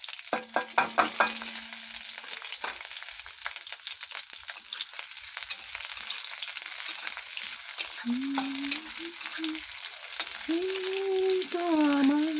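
Onions frying in hot mustard oil in a pan, a steady close sizzle with stirring scrapes, early clinks and a singing voice coming in near the end.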